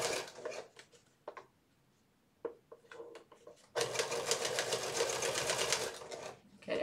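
A sewing machine with a walking foot stitches a drapery panel, running in short bursts and then a long continuous whirring, clattering run, close and clear with no talk.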